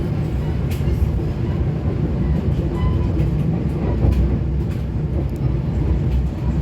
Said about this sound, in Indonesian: Kereta api Pangandaran akan melintas di jembatan Citiis Nagreg.